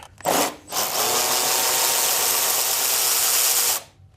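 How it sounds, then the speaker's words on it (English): A ratchet on a long extension turns a 10 mm bolt during an exhaust job. A short burst comes first, then a sustained, harsh whirring run of about three seconds, close and loud, that stops abruptly. "I love this ratchet"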